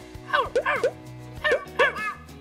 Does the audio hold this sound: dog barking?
yes